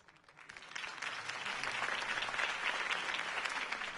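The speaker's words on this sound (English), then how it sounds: "If only Mr. Wayne, my campaign's largest backer, could have heard that applause" A crowd at a political campaign rally for Harvey Dent in Batman: The Telltale Series breaks into steady applause that swells from faint to full and holds, with no voices over it.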